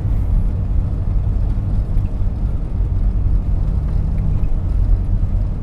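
A Mercedes-Benz car with an M103 engine drives along, its steady engine rumble and road noise continuous and fairly loud throughout.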